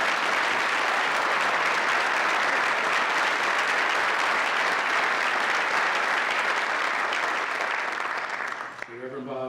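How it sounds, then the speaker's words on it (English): Audience at a George Washington's Birthday convocation applauding warmly, a full, even wash of clapping that holds for about nine seconds before tapering off, with a voice starting at the very end. "I'm going to give him a round of applause just for that."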